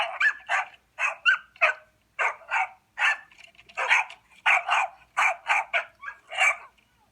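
Dogs bark loudly and close by in a rapid, uneven series of sharp woofs and yips. The barks come in quick bursts with brief pauses between them and carry on for several seconds.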